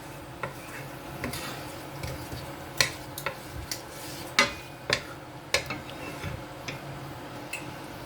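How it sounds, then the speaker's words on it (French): Whole spices stirred in hot oil in a pot, a faint sizzle underneath sharp, irregular ticks and clinks of a spoon against the metal rim, close and moderately loud. "Et vous remuez un petit moment"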